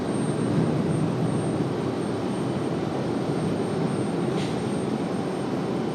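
An Icelandair Boeing 737 MAX jet at RDU, heard as a moderate, steady engine rumble and hiss that stays even throughout, with no voices.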